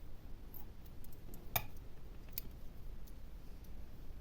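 Scissors snip through craft material for a sewn toy snake, with one sharp click and a few faint ticks in a quiet room.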